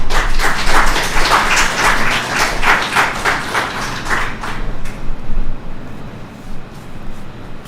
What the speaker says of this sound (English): Ladies and gentlemen, please hold your applause